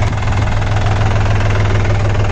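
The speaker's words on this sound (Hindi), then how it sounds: "तो भाई 2500 आरपीएम है इस ट्रैक्टर के पूरे, और 2500 आरपीएम पे इसकी रोड स्पीड नापेंगे" A New Holland 5510 tractor engine runs flat out at 2500 rpm, giving a loud, steady, close diesel drone with an even rapid knock and no pauses or talk.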